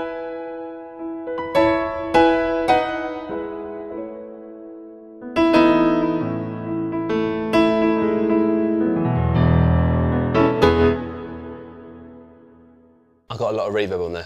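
A Nord stage piano plays slow chords and single notes drenched in long, ringing reverb that swells and fades, followed by an abrupt different sound at the end.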